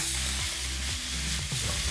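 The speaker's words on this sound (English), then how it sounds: "Nice little sizzle." A steady, hissing sizzle of chicken frying with onions in a hot pan, continuous and close, with a faint low hum underneath.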